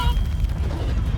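Confringo, a fiery blast spell cast in Hogwarts Legacy, goes off as a dense, rumbling boom with a sustained low roar across the whole short moment, loud and close.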